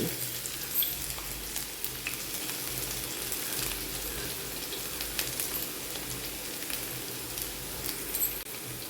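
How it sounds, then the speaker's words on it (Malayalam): Fenugreek, garlic and ginger fry in hot oil for a tamarind pickle, giving a steady, close crackling sizzle throughout with small pops and no talk. "അടുത്തതായിട്ട് ഇനി വെളുത്തുള്ളി ഇട്ട് കൊടുക്കാം ഇഞ്ചി ചേർത്ത് കൊടുക്കാം"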